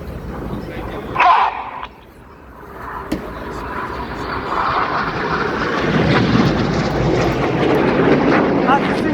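A Red Arrows jet sweeps in at airshow speed trailing smoke, its engine noise building into a broad, steady roar as it passes near, with a commentator speaking over it.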